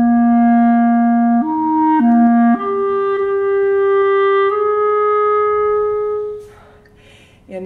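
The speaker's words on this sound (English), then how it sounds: "So that fixed idea in the slow movement sounds something like this." The fixed idea melody from the slow movement of Berlioz's Symphonie fantastique, played as a slow, sustained single line of held notes that step up and down, loud and clear before fading at the end.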